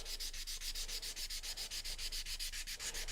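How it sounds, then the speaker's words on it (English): Painted lettering on wood sanded by hand along the grain, a steady, close back-and-forth rasp of even strokes with no talking. "So I'm going to sand my lettering vertically, following the grain that I've done before."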